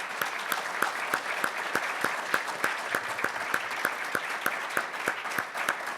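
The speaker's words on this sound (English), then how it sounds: "Please join me in giving a big round of applause." Audience applause at a mayoral candidate forum, a steady wash of many hands clapping with a few sharp, regular claps standing out, sustained and even for the whole stretch without any voices.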